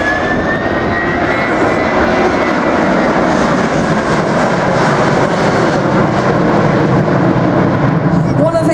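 A Royal New Zealand Air Force Boeing 757 at an air display roars steadily with loud, continuous jet engine noise throughout, close and dominant, during a simulated takeoff pass.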